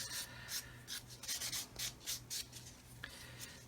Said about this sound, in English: And then I've got the 1000 grit just to follow up with.